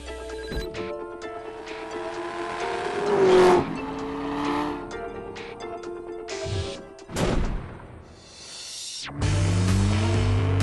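Toy Hot Wheels race cars accelerate in an animated racing scene, with engine whine rising and falling over sound effects and music, including a sharp revving swell midway and an abrupt cut before another burst.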